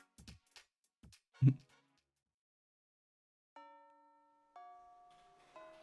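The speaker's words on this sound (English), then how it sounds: "The bell rings to signal the end of lunch." A chiming school bell in the visual novel game Fate/hollow ataraxia rings in two soft, sustained tones after a few brief taps and thumps, then fades.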